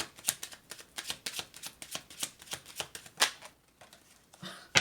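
Tarot cards shuffled by hand give a rapid run of crisp, papery riffling clicks close by, thinning out to softer rustling near the end, with no talking.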